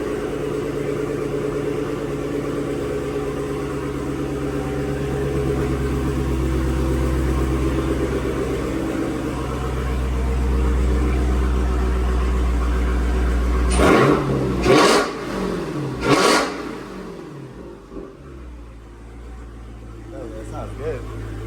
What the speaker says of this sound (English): I'm gonna get a little rev.